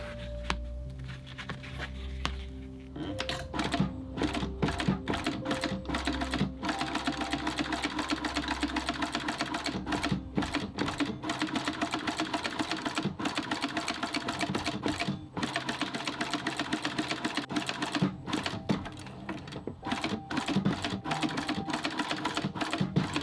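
A sewing machine stitches a card holder in a long, steady run of rapid mechanical clatter, close and continuous, with a few short pauses at the start.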